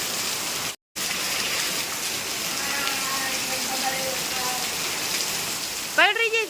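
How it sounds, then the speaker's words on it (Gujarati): Rain pours down steadily outdoors, a dense, even hiss of drops striking surfaces that runs throughout. A faint voice is heard partway through, and a brief chirping sound comes near the end. "આજ તો વરસાદ આવી ગયો છે"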